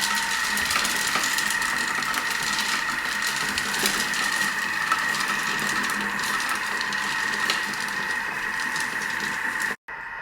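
Kitchen machine running at speed 1.5 while melting chocolate, a steady mechanical whir and hum with a faint rattle, close and unbroken until it cuts out abruptly near the end.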